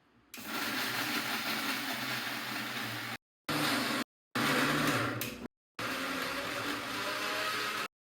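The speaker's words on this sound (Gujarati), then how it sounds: "હવે મિક્સરમાં મૂકી દીધા હોય. હવે આપણે આને પીસી લઈશું." A kitchen mixer grinder grinds coconut with sugar for a sweet, loud whirring roar that runs in several bursts with short silent gaps between them, and no one speaks.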